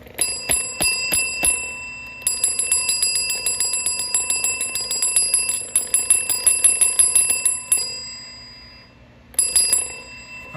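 A Staples call bell is struck over and over in quick rhythmic bursts, bright metallic dings ringing close and clear, with a brief pause near the end before another run of rapid rings.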